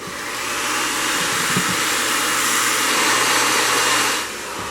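A heat gun blows steadily while warming faux crocodile fabric being molded onto a barstool, a loud, even roaring hiss that holds for about four seconds and then cuts off near the end.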